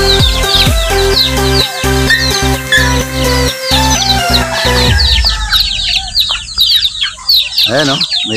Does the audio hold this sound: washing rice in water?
no